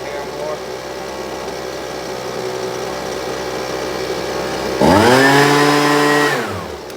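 Husqvarna 125BV leaf blower two-stroke engine running steadily near the mic at a fast idle, then revving up louder for about two seconds and dropping back down toward the end.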